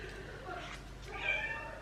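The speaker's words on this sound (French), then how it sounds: "Ce chat est un chat qui parle." A pet cat meowing indoors, a couple of soft, drawn-out mews rising near the end over a low background hum, fairly faint and close.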